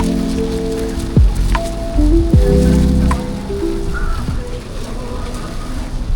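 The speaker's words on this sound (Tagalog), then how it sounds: "Talagang umulan bumagyo" Heavy rain pours during a storm in Hong Kong, making a loud, dense, continuous hiss of drops on surfaces, with a few brief tonal sweeps passing through.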